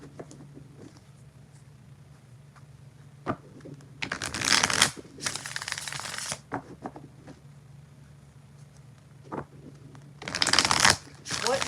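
Tarot cards are shuffled in several loud riffling bursts, close to the microphone, between stretches of quiet room tone and soft speech.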